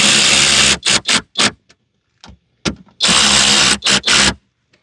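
A power tool snugs a factory screw on a mudflap bracket on a 2024 RAM dually truck, sounding in loud, close bursts: a long whir, several short pulses, then another long run and two final short bursts, with quiet gaps between.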